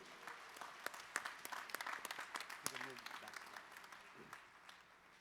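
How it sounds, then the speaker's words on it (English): Faint applause from a conference audience at a closing ceremony, scattered distinct claps under voices talking and murmuring nearby, tapering off toward the end. "a huge round of applause"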